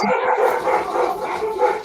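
Several dogs bark and yip continuously in a home during an online conversation, loud and close, with overlapping yelps and whines.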